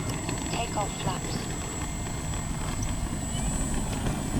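E-flite CZ T-28 RC airplane droning steadily at a distance while someone talks over the flight at a field, the motor a constant hum under his voice.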